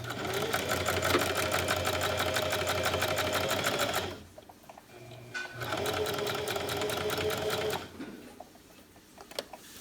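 Sewing machine stitching around the edge of a fabric baby sleeper, a fast, even mechanical chatter in two long runs separated by a short pause, near and clear.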